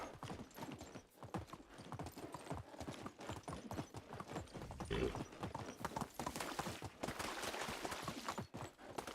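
Rapid, rhythmic hoofbeats of a horse galloping in the video game Medieval Dynasty, steady close clip-clop thuds running the whole way, with occasional brief louder knocks mixed in.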